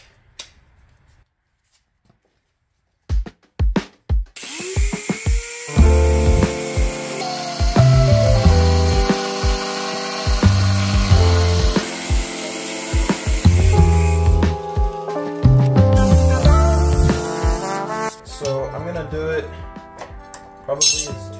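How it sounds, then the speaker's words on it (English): Angle grinder fitted with a cutting disc slicing through metal for a minibike brake upgrade, starting with a few sharp clanks before a loud, steady whining cut that wavers in pitch and stops near the end. "I'm going to grab my grinder, put a cutting disc on it."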